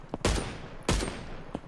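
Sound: gunshots in a video game

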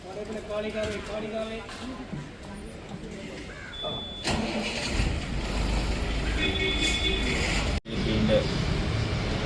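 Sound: bus engine starting

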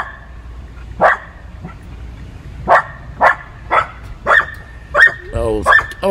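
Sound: dog barking at its reflection in a window

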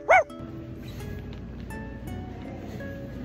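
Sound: person imitating a barking dog

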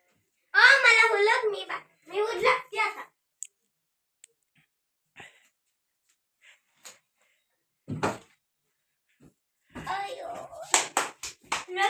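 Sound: small child clapping hands

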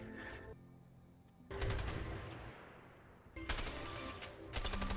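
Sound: M16 rifle gunfire in A Way Out video game

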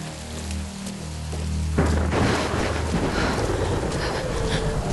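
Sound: thunderstorm in Tomb Raider video game

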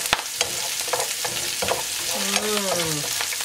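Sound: onions and herbs frying in a pot

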